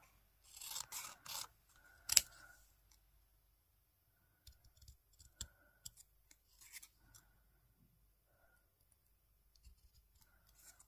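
Scissors snip a paper sentiment for a scrapbook card, a quick run of close crisp cuts followed by sparse light clicks and paper handling, no voices.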